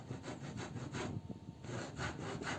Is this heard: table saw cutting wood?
yes